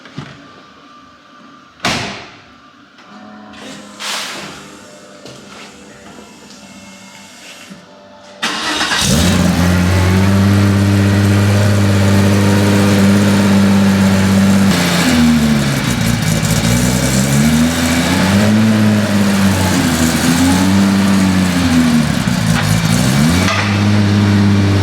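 A Porsche 964 Turbo, an aircooled 911 with a newly fabricated exhaust, cranks after a couple of door thumps, then fires into a loud, steady engine roar close by, rising and falling in pitch as it revs and drives off.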